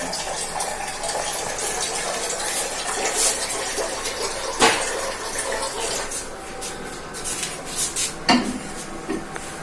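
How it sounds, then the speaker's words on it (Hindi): Kitchen sounds while hot water and breakfast are prepared: running water and clinking dishes and cutlery, with sharp clanks among a steady wash of water. "तो जागृति कर रही है गर्म पानी और क्षितिज के लिए नाश्ता तैयार कर रही है"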